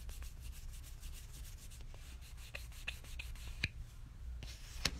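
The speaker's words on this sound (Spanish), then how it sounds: "mira que no estoy raspando mucho y aún así siento que queda mucho esmalte" A scraper rasps nail polish off a fingernail during nail art, a faint, quick series of dry scratching strokes in a quiet setting with no talking.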